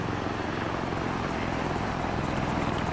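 A Little Bird helicopter in the video game ARMA 3, with a steady rotor and turbine roar that stays loud and continuous throughout, no voices over it.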